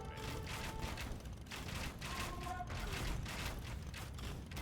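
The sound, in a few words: bombard cannons firing in Age of Empires 2 video game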